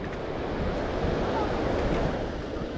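Ocean waves wash steadily onto a beach in Maricá on a cold day, with a constant loud surf roar and wind buffeting the microphone.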